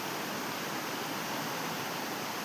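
A village river swollen in the monsoon season rushes past farmland with a steady, dense broadband wash of flowing water. The sound is continuous and unbroken, with no voices.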